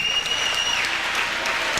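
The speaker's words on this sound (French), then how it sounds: "Une bonne main d'applaudissement pour Gaétan" Crowd applause at a countryside barbecue in St-Anselme, 1995, honoring a man who drew the winning car raffle ticket; dense, even clapping throughout the short stretch, with a faint high electronic tone briefly over the start.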